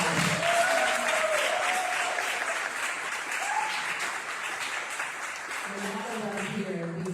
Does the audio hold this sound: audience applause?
yes